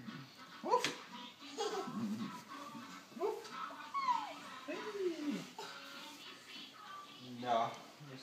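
A child imitates a dog, yipping, barking and whimpering in repeated short vocal bursts at close range, alone without other talk.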